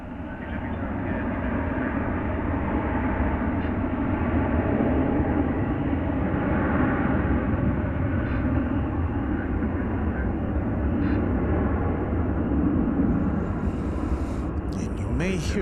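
An American Airlines Boeing 737-800 arrives at DFW Airport, a steady, loud broadband jet roar holding throughout the stretch, with faint higher hiss entering near the end.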